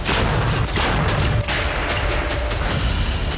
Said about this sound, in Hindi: ब्रिज पर जोरदार धमाके के साथ बारूदी गुबार उठा